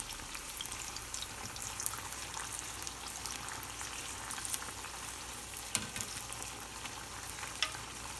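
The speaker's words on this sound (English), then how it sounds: "I'm going to deep fry it twice. to get a nice crispy texture." Ajwain leaf pakoda deep frying in hot oil, a steady, dense crackling sizzle that runs unbroken throughout, close and fairly quiet, with a few sharper pops and no talk.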